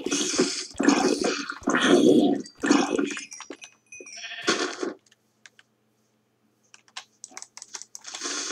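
Sheep bleating in the video game Minecraft, heard among busy game sounds and clicking, with a few short bleats near and moderately loud before the sound drops away.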